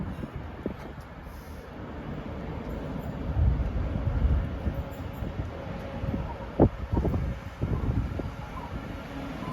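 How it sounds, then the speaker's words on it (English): A Northern diesel passenger train pulls into Metrocentre station, a steady low rumble and rolling clatter building gently with a few sharp knocks and wind buffeting, no talk over it. "Arriving now is the 1304 Northern service from"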